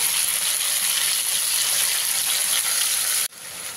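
Ridge gourd and potatoes fry hard in hot oil as a spice paste goes in. The bright, dense sizzle is loud and steady, then drops abruptly near the end as the paste hits the pan.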